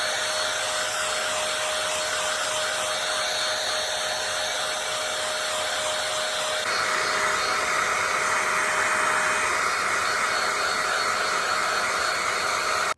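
A 5-in-1 hot air styling comb runs on high mode, a loud, steady blowing roar with a faint whine, getting slightly louder and brighter partway through as it is moved through hair.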